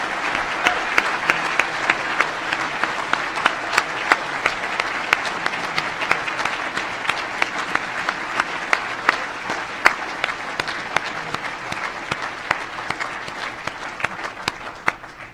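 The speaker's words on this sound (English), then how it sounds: "please join me in a big round of applause to officially welcome our class of" An audience at a College of Medicine white coat ceremony gives a long, sustained round of applause welcoming the new medical class, with individual sharp claps poking through the crowd before it tapers off at the end.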